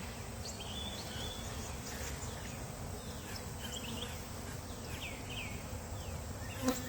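Honey bees buzz steadily at an open hive: a dense, continuous drone of many wings close by, with individual bees whining past now and then, and no talk.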